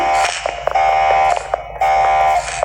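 A fire alarm blares in the Roblox FNAF game, a loud, harsh, steady electronic buzzing tone that cuts briefly and restarts in repeated bursts, with no voices over it.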